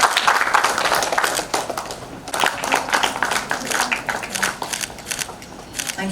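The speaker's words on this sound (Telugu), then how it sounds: "ఇలాంటి సిచ్యువేషన్లో గెస్ట్గా పిలవగానే వచ్చినందుకు మనం మన తరఫు నుంచి గట్టిగా చప్పట్లు కొట్టాలండి" An audience claps for a guest at a Telugu honorary doctorate ceremony, a broad, steady patter of many hands lasting several seconds, with a little speech mixed in.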